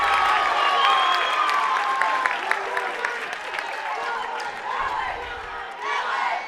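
High school boys' basketball crowd at Salamanca versus Randolph cheers and claps in a gym, a busy roar with scattered shouts and applause, while a commentator talks over it.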